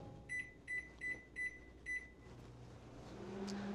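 A Panasonic cyclonic microwave oven set on high gives five short, evenly spaced beeps, then settles into a low, steady running hum.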